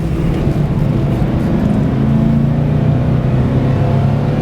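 A 2009 Chevrolet Express 3500 conversion van with a 6.0-litre engine accelerates, its deep, steady engine drone and road roar holding loud and close throughout without a break.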